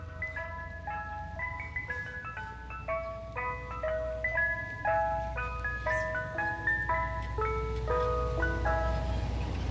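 An ice cream truck plays its repeating tinkly jingle on a New York street, bright melodic notes carrying steadily over a low traffic rumble as it passes.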